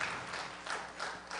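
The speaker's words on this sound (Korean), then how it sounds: "오늘 수료식 하는 우리 친구들에게 우리 박수 한번 다시 한번 힘차게 쳐주시죠" Sustained audience applause at a church school graduation service, a dense, steady wash of many hands clapping that swells slightly in waves, with no talking over it.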